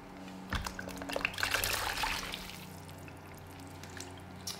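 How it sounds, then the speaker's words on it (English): Olives dropped into a container of salted brine, giving a short burst of splashing and trickling water, then quieter settling drips. "And we're going to put our olives in."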